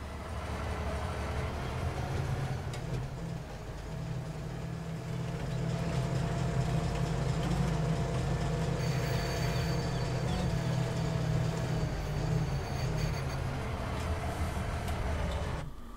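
A train idles in the Farming Simulator 19 farming game, giving a steady low mechanical drone with a faint higher hum that stays even for the whole stretch, with no talking over it.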